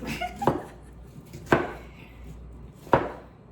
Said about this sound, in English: Slice that onion